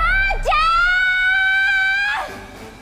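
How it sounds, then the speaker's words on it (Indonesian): A character in the anime film Kyou Kara Ore Wa lets out a long, loud shout calling someone's name, a single sustained yell of about two seconds with a rising start and a falling tail, heard alone. "Lantas ia pun berteriak memanggil Mitsuasi"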